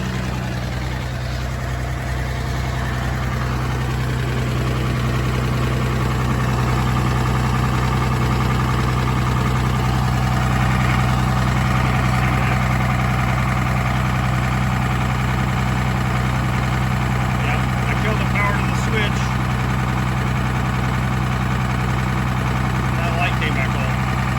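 A tractor engine idles steadily and close for the whole stretch, a constant low droning hum with vibration, while someone speaks over it.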